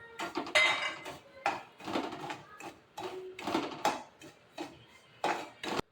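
Semolina roasting in a little oil in a pan for upma, a spoon scraping and clinking against the pan in irregular bursts of stirring, close and fairly loud, with quiet gaps between strokes.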